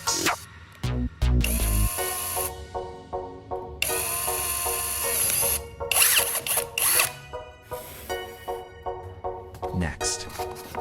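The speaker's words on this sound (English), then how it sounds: "I take this carbon rod and attach it to the head of a handheld drill to prepare to grind it into powder." A handheld power drill spins a carbon rod against a grinding surface, its whine starting and stopping in several short bursts with a steady mechanical hum between them, close and fairly loud.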